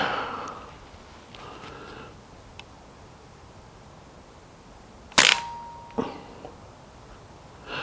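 A single gunshot from a garden shooting rifle fitted with a moderator lands as one sharp, muffled crack after a quiet stretch, followed by a fainter mechanical click; the shot is close but subdued, with no talking.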